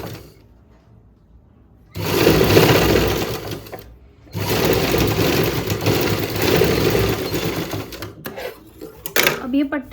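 Sewing machine stitching a hook-and-eye strip onto a blouse, running in two loud, steady bursts with a short pause between, then stopping and starting in brief spurts near the end, with a voice talking over it.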